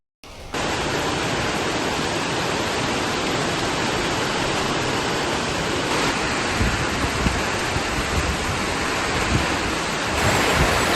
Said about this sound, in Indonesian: Akibat dari hujan deras yang berlangsung lama, air sungai pun meluap.